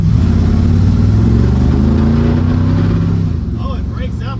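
A 1970 Dodge D200 pickup engine runs rough nearby, loud and uneven, stumbling and breaking up as it revs before dropping back; a voice cuts in near the end.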